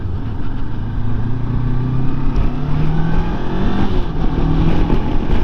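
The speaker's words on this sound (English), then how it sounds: "So I'm quite pleased with the way this bike picks up." A motorcycle cruises along a blustery dual carriageway, its engine a steady, loud drone with a slight rise in pitch, mixed with wind rush and no voices.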